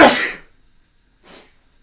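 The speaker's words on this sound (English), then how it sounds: "I'm going to sneeze" A single sharp, loud human sneeze bursts out close to the microphone and fades quickly, followed after a short pause by a fainter breathy exhale or sniff.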